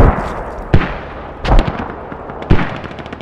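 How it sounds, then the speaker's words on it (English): Mortar rounds land in a tactical multiplayer war game as four heavy, booming blasts spread unevenly over a few seconds. Each blast leaves a short rumbling tail. No one speaks. "Good mortars. Right, good mortars. Good rounds."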